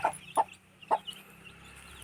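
A hen clucks in short, separate bursts, three or four quick notes with brief quiet gaps between them, fairly faint and close by on a rural homestead.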